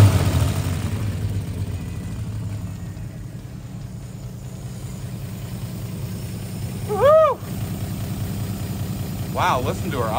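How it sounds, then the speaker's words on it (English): A 1955 Chevy engine, back running after 40 years off the road, idles steadily with a low, even rumble throughout. A brief voice-like sound rises over it midway, with faint talk near the end. "Wow, listen to her idle."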